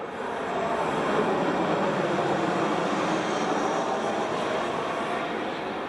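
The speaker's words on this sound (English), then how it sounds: "I'm going to wait for this stupid plane to go by." A plane passing overhead, a broad, steady roar that rises quickly and holds for several seconds before easing slightly, heard outdoors with no talking.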